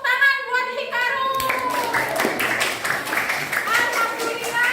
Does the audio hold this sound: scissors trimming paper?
no